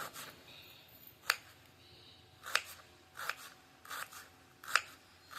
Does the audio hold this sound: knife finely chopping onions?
yes